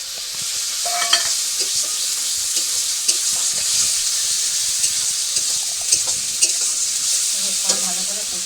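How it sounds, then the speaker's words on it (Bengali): Ground cumin, chili and ginger paste fries and sizzles steadily in hot oil in a village kitchen, with a spoon stirring and scraping the pan in repeated light clinks throughout, near and fairly loud with no voices. "এবার মশলাটা ভালো করে কষিয়ে নেবো।"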